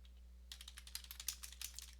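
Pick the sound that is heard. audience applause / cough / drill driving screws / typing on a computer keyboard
typing on a computer keyboard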